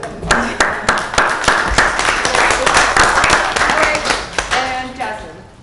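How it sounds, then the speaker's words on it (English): A round of applause at a college student government meeting, a small group clapping briskly and unevenly close by, with people talking over the clapping as it fades at the end. "Round of applause."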